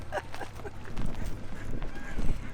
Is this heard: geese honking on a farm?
yes